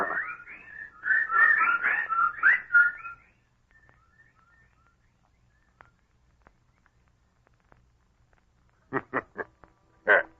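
A burst of shrill, chattering bird calls from a radio drama sound effect, then near quiet with faint ticks, before a few short, sharp calls return near the end.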